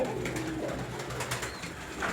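Soft cooing of classic Hünkar pigeons murmurs in the background, low and faint, amid light rustling and small knocks nearby.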